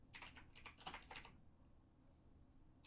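Rapid bursts of keystrokes on a computer keyboard, close and clear, typing text during a Blender game-making session, followed by a pause of near silence and one final key tap.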